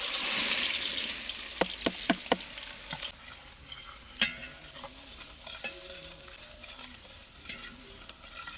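Sliced onions drop into hot oil with whole masala for a village-style bangda fish curry, sizzling and frying steadily with several sharp stirring clacks of a spoon against the pan, fairly close.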